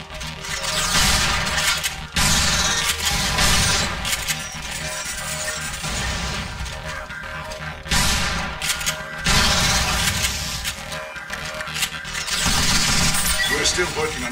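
Weapon fire in the video game Vanquish: loud bursts of gunfire and heavy booming blasts come in several waves, with crashing debris and voices mixed in.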